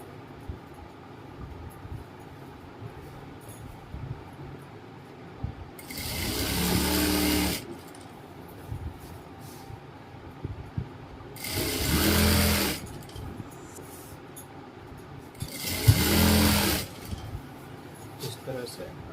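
Sewing machine stitching a Patiala salwar runs in three separate loud bursts of rapid mechanical whirring, each a couple of seconds long, with quiet pauses and soft handling noises between them.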